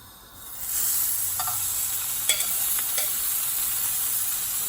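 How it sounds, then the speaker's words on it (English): Octopus hits a very hot grill pan, and after a quiet moment a loud sizzle rises and holds steady, with a few sharp pops and crackles scattered through it and no talking. "I'm gonna grill my beautiful octopus on a very hot grill pan."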